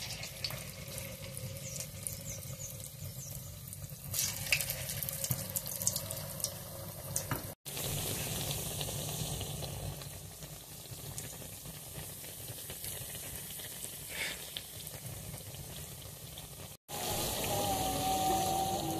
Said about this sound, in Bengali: এখন ভাজার জন্য কড়াইতে দিয়ে দিচ্ছি।